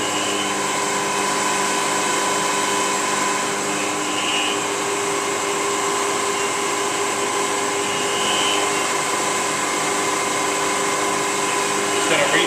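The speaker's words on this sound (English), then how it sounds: "So now it changes the RPM to do the finish cut." A milling machine spins at its finish-cut speed, giving a steady, loud mechanical whine with sustained tonal hums that stays even throughout, and no clear speech over it.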